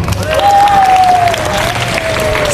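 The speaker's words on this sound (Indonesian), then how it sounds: "tepuk tangan dong" Applause fills a room full of people, a dense, steady patter of many hands clapping together with a faint voice or tone drifting above it.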